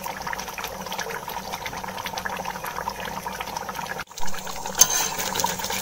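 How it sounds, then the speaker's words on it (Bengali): Catfish curry simmers uncovered over a high gas flame as its gravy reduces, a steady close bubbling with soft crackle, with one brief dip partway through. "আমি ঝোলটা আরেকটুখানি শুকাবো, গ্যাসটা বাড়িয়ে দিয়ে ঢাকবো না"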